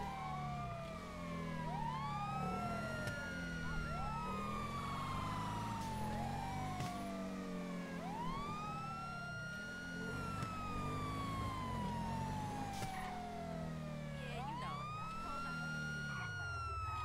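A wailing ambulance siren in the video game GTA V, rising and falling in steady repeated sweeps over a low engine rumble, loud and continuous throughout.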